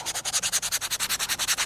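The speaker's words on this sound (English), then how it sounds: "Hopefully I have done an appropriate amount of scuffing." A Birkenstock sole is scuffed by hand with quick, even back-and-forth rubbing strokes, about eight per second, close and steady and continuing without pause.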